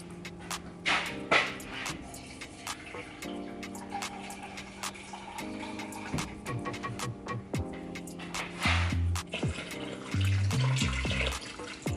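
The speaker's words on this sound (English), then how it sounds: "So I'm gonna go in with 300 milliliters of water." Water runs and splashes into a cooking pot, a steady pour of 300 milliliters with some clatter and shifting tone, close up and moderately loud.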